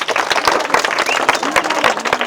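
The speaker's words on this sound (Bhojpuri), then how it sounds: "एक बार जोरदार ताली" Audience at a Bhojpuri comedy stage show claps loudly in a dense burst of rapid, sharp hand claps lasting a couple of seconds, close and lively.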